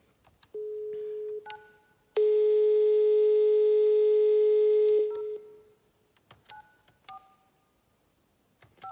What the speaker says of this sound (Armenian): ես կոնկրետ մարդու եմ զանգում, բաժանորդը ժամանակավորապես անհասանելի է